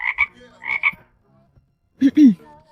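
Cartoon frogs in a neighbouring rice field croak as a sound effect: two quick double croaks, then a lower, throatier croak a moment later, each short and close with silence between.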